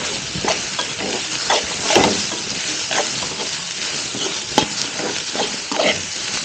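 Duck curry ingredients sauté in a pan with a continuous sizzle and hiss, broken by stirring scrapes and light clinks of a utensil against the pan throughout.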